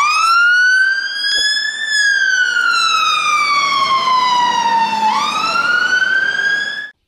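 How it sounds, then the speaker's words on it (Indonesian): Toy fire truck siren wailing loudly and up close, a clear electronic tone sweeping up and down in long cycles before cutting off abruptly at the end. "Wow, mobil pemadam kebakaran."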